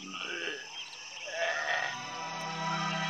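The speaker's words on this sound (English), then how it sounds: "You're a friendly sheep, aren't you?" A sheep bleats in a long, wavering call near the listener, loud and alone on a calm day outdoors.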